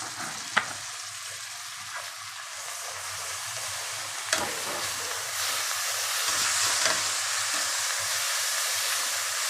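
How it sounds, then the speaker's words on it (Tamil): Onions sautéing with chopped mint and coriander for a home-style mushroom biryani, a continuous hissing sizzle with occasional sharp spoon taps and stirring scrapes against the pan, no talking. "அதையும் இதோடு ஆட் பண்ணி இதே நல்லா சேர்த்து வதக்கலாம்."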